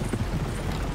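Horse hooves clip-clop at a walk in Red Dead Redemption 2, a soft, steady series of hoof falls over a low game ambience, with no talk.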